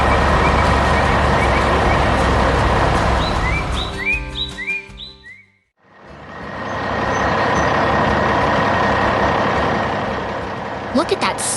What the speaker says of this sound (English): Look at that sturdy orange truck carrying its heavy load of bricks.